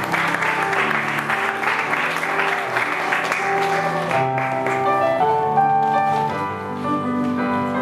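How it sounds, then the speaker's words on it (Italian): Applause at a poetry award ceremony, steady clapping from the audience beneath loud music that takes over partway through. "Un applauso per Maria"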